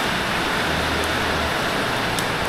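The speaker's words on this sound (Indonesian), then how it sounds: "ini saya pakai payung ya karena hujan ya harus pakai payung" Steady rain falling at night in Dieng, a close, continuous broadband hiss with no break or voices.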